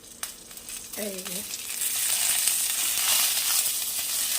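Bhetki fish frying in a pan, a steady bright sizzle that swells and holds at close range, with a brief spoken remark near the start.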